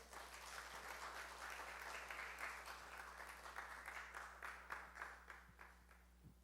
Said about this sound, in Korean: 다 같이 인사하시고 박수.